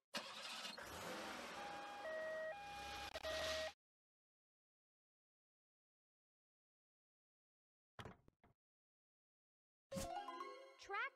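An ambulance in a children's vehicle cartoon sounds a two-tone hi-lo siren, alternating steadily over noisy engine rumble for a couple of seconds, before silence and a few later clicks and chimes.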